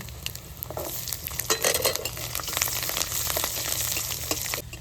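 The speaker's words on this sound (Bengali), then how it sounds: "এগুলো সব শুকনো লঙ্কা রসুন ভালো করে ভেজে নিয়েছি" Dried chillies and garlic frying in a pan, a dense steady sizzle with frequent stirring scrapes and light utensil clicks, close and moderately loud, with no talking.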